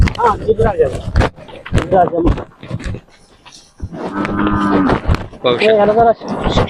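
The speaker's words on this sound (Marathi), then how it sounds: "हा घरच्या गाईचा खोंड आहे" A young bull calf lows in a drawn-out, throaty call amid people talking nearby, with a second shorter bellow toward the end.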